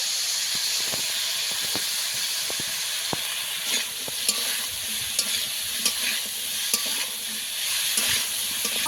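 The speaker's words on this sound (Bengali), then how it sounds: "সরষে ডাঁটাটা আমি কিছুক্ষণ ভেজে নেব। সামান্য হলুদ গুঁড়ো দিয়ে দেবো।" Drumstick stalks fry in oil with a little turmeric, a steady close sizzle and hiss with scattered clicks and scrapes of stirring, no voices.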